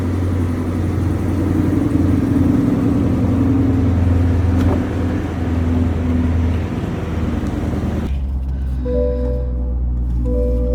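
A car engine runs with a loud, steady low hum and some revving for most of the stretch, then drops to a quieter idle while a faint tonal sound comes in near the end.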